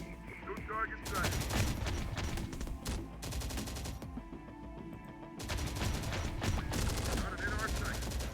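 Sustained bursts of automatic gunfire from Terminator: Dark Fate - Defiance rattle in two long volleys with a brief lull between, loud and dense, with radio-style voice chatter mixed underneath.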